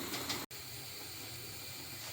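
Mushrooms and courgette sizzle in a frying pan, a steady broadband hiss close by with a brief cut near the start, no talking over it.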